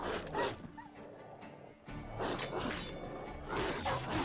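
Dog barking in The Witcher 3, a few short barks standing out over a busy game soundscape with background speech-like voices and ambient noise.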